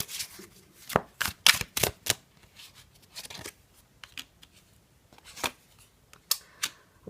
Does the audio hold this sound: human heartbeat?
no